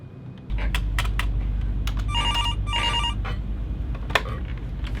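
A telephone in a hospital reception rings with an incoming call, two bursts of electronic trilling close by, mixed with scattered keyboard clicks over a steady low hum.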